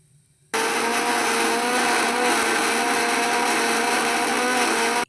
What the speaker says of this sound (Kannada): ಇದನ್ನು ರುಬ್ಕೊಳ್ಳೋಣ.